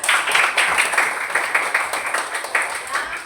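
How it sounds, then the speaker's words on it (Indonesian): Applause in an Indonesian classroom for a student group after a lesson on electric circuits, with steady, moderately loud clapping from many students filling the short stretch and faint voices mixed in. "tepuk tangan untuk kelompok Mawar"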